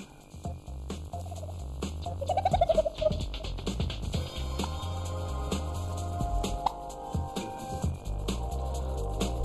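A turkey hen gobbles and clucks nearby in a natural park in early January, a rapid bubbling call rising midway over a faint steady hum, with scattered softer calls around it.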